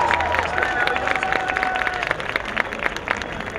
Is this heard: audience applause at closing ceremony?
yes